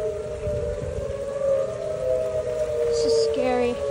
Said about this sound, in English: These sirens have been going off for like a few minutes now, and they're louder than usual test days.